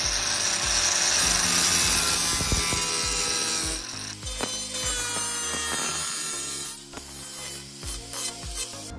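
Sheet metal for a car patch panel cut with hand tools, close rhythmic ratcheting snips and rasping metal strokes, continuous at first, then more uneven bursts.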